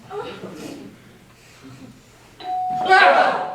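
A doorbell rings loud and close with a bright ding-dong tone after a stretch of people talking indoors.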